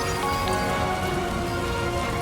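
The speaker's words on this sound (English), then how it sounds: "Rainy." Steady rain in the video game Death Stranding 2, a dense constant hiss of drops on surfaces at an even, fairly loud level with no voices.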